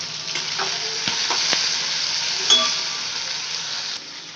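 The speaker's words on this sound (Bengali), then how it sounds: "এখানে তেলে আলু, গাজর আর লঙ্কা কুচিটা আমি অলরেডি ছেড়ে দিয়েছি।" Potatoes, carrots and chopped chilli frying in oil give a loud, even hiss of sizzling at close range, with a few soft knocks and one small metallic clink, and no speech.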